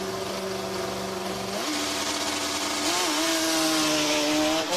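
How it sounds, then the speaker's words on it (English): A Formula Student race car engine, the Cádiz Formula Team entry, screams through an acceleration run, its loud buzzing roar climbing in pitch in stepped bursts as gears change, close and sustained throughout. "You can really hear the engine roar on this one."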